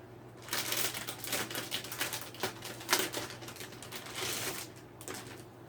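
A large paper sewing pattern sheet is unfolded and handled, giving a run of crisp crinkling and rustling bursts that rise and fall for several seconds, close up and fairly quiet, with no talk.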